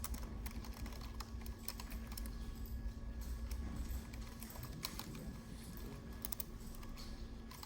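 Typing on a computer keyboard during a server setup session, a steady patter of quiet key clicks in bursts over a constant low electrical hum, faint and somewhat distant.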